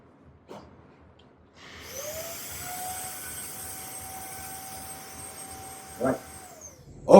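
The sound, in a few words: Nikola X50 vacuum cleaner running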